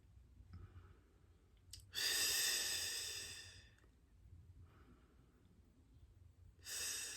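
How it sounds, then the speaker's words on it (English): Deep lateral breaths during a Pilates exercise, with slow, close, soft airy inhales and exhales separated by quiet pauses, heard alone. "So you're placing your hands onto the lower rib cage, just underneath the bra line, and we're breathing in."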